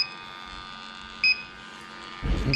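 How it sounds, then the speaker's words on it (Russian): A refrigerant leak detector sniffing for a freon leak gives a short, sharp electronic beep over a faint steady hum, then a burst of rustling noise at the end. "где утечка, начинает пищать"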